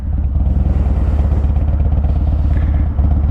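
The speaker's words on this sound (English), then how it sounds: "These are one of the older style Harley motors, so they do have a little bit more grumble to them" A 2006 Harley-Davidson Street Bob with an older-style Harley motor idles loud and close, its deep, uneven grumbling throb steady throughout with a faint mechanical clatter on top.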